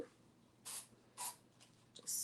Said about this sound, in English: just spraying in the bottom.